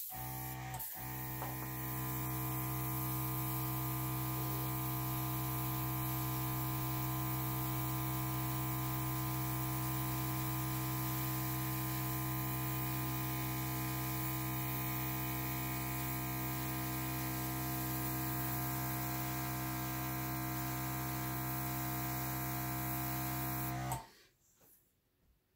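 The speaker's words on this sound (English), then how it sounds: "So I have my little airbrush out." An airbrush sprays continuously during acrylic pour painting, a steady hissing rush with an electric hum beneath it that holds for over twenty seconds, then cuts off abruptly near the end, with no voices.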